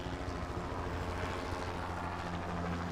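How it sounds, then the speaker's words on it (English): A helicopter drones steadily with a low, throbbing rotor hum and a broad engine roar, constant and fairly close, with no voices, flying over the Kimberley wilderness. "we even include a helicopter ride"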